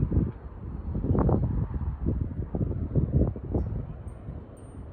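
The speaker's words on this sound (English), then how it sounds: "Let's see if another strong gust comes in." Strong outdoor wind roars and buffets the microphone in uneven surges throughout, with wind chimes nearby, a loud continuous rushing gust with no talk.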